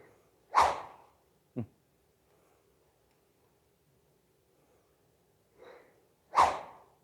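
Two sharp swishing whooshes of a swung golf club cutting the air, a second apart in time, with a faint tap and a softer swish between.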